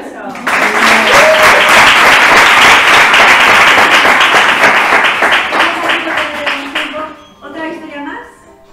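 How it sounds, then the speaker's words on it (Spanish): Audience applause rises at a theatre and gender gathering in Miraflores de la Sierra, Madrid. Loud, crisp clapping runs for about six seconds with voices mixed in, then tapers off while people keep talking. "Un aplauso."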